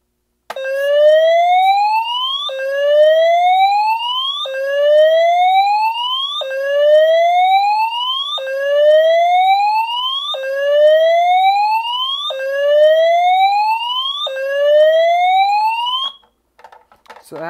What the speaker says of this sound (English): So that was whoop.